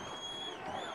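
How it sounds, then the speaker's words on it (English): Crowd at an NCAA college football playoff quarterfinal between Lenoir-Rhyne and West Florida, a steady wash of distant stadium noise with faint cheering throughout a brief moment. "You hear the crowd."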